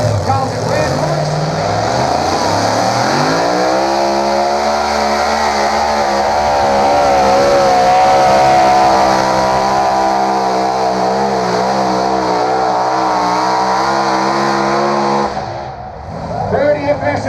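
Big two-wheel-drive pulling tractor roaring at a Texas tractor pull in Columbus, a loud sustained engine climbing in pitch and holding at full throttle before cutting off near the end, with an announcer talking over it.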